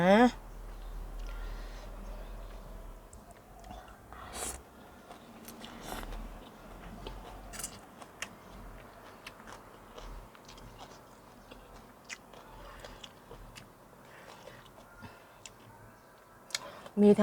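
Close chewing and crunching of a spicy Thai glass noodle salad with water mimosa and shrimp fat, with soft bites and mouth sounds repeating irregularly over a quiet background.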